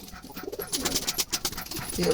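Jalali pigeons give a short run of soft, close cooing calls in their loft, the calls repeating quickly over faint rustling.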